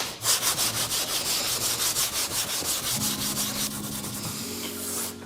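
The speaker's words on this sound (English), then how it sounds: "I'm gonna scuff it up with 400" Car bumper paint is scuffed with 400 grit sandpaper, a close, loud rhythmic rasp of quick back-and-forth strokes, steady and unbroken, with faint tones behind it.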